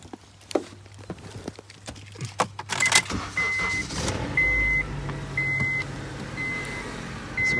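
Keys jangle and a car engine turns over on a cold start, followed by a steady engine drone with rhythmic dashboard chimes, from a vehicle with a suspected flex plate or belt tensioner fault.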